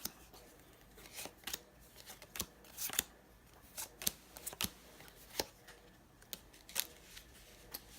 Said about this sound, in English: they take a card from the top or bottom of the deck and place it down